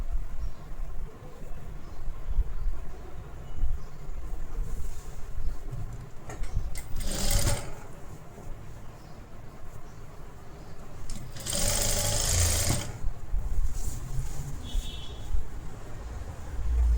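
A sewing machine runs steadily up close while stitching the hem of a collar-neck blouse, with a continuous mechanical whir and two brief louder bursts of clatter partway through.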